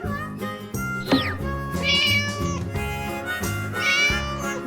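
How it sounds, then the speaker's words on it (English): A cartoon cat gives a clear rising meow, followed by more mewing over a bouncy, upbeat children's tune, all loud and close. "This is a cat."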